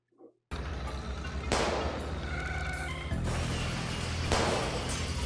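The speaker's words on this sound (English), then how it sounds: "very cool scene there with the cars crashing" Loud crashing impacts from cars smashing together in a Minecraft sniper warfare animation, a sudden burst after brief silence followed by repeated heavy crashes and a sustained roaring rumble.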